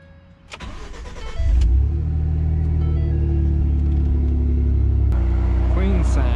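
A Ford F150 pickup, 2009–2014 generation, cranks and fires up close by, its engine surging into a loud deep rumble and then holding a steady, throaty idle with a brief rev near the end.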